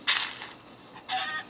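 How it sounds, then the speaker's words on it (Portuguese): A chicken in the video game Exploradores gives two short clucking bursts, close and moderately loud, with a brief quiet gap between them. "Eita, galinha tá presa."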